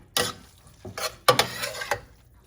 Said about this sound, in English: And I'm going to go ahead and mix it up.